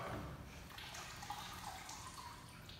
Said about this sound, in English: So we'll go ahead and drain the fluid out.